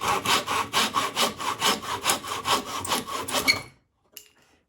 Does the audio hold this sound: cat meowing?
no